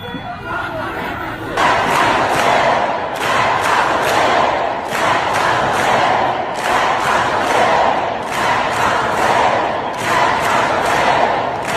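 A large crowd at a rally in Dearborn, Michigan roars and chants in loud, rhythmic surges that repeat every second or so, filling the whole stretch with dense, close cheering.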